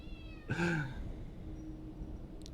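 A single cat meow from a Pathologic 2 game scene, a short rising-falling call about half a second long, standing out clearly over a low steady background hum with no speech.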